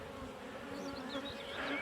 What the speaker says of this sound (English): Seriously, bees everywhere.